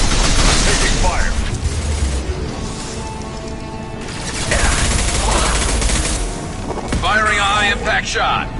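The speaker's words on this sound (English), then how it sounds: "Taking fire." Sustained bursts of gunfire from a Mass Effect 2 firefight against Cerberus, loud and dense with booming impacts and rattling mechanisms, with spoken voices over the combat throughout.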